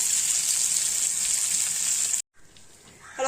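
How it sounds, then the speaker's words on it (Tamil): Kizhanga fish frying in hot oil in a pan, giving a steady, bright sizzle that cuts off abruptly partway through, leaving quiet low rustling before it starts to rise again. "இப்போது நான் எல்லா மீனையும் உங்களுக்கு வறுத்துட்டு உங்களுக்கு காமிக்கிறேன்"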